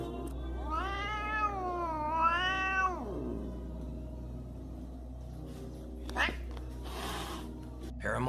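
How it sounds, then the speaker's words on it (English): A cat gives one long, loud, wavering meow for about two seconds. A few soft knocks and faint sounds follow over a steady low hum. "A cat goes aggressive?"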